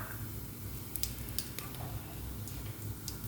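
Cumin seeds sizzling in hot mustard oil in a cooker, a steady close frying hiss with small crackles and pops throughout, no voices.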